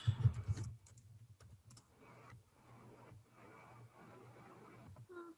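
Faint, quick clicking of keys on a computer keyboard in an irregular run of taps, following a louder bump at the start, with a low steady hum underneath.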